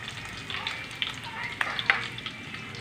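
Pork frying in a pan, a steady sizzling hiss with a few sharper crackles and pops scattered through, close and moderately loud, no talking.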